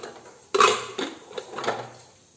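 A pot lid lifted off a cooking pot of boiled jackfruit seeds: one sharp, close metallic clank, then a few lighter clatters and rattles as the lid is handled, with no talking.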